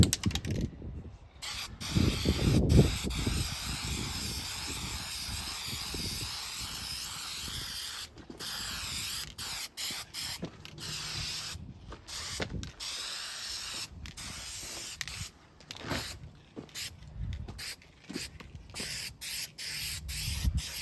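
Aerosol spray paint applied in light coats to arcade game parts, repeated hissing bursts of varying length with short pauses and faint handling noises between them.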